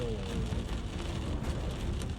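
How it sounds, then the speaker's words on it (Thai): Heavy rain from a rainstorm pelts a car while driving in Lamphun, Thailand, a dense, steady drumming hiss on the vehicle with low rumble underneath, loud and close throughout. "นี่น้องฝนมาไล่ฝุ่นควันแล้วครับ"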